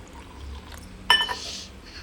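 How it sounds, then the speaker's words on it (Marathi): Cumin and fenugreek water poured into a glass: a sharp clink of the pot rim against the glass, then a short, soft splashing pour lasting about half a second, close by in a quiet room. "तर तयार झालेलं जिरा आणि मेथीचं पाणी मी ग्लासमध्ये ओतून घेते"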